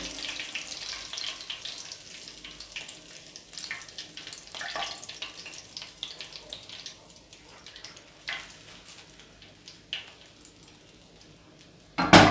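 Fish frying in a pan gives a soft, continuous crackling sizzle with scattered louder pops, fairly quiet and without speech.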